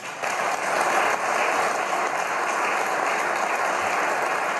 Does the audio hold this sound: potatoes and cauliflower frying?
no